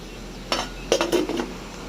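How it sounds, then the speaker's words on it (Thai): A metal lid goes onto a cooking pot with a few short clinks and knocks close by. The scrapes of the lid settling into place come in quick succession, with no talk. "กะเข้ามาปิดฝากันเนาะครับผม"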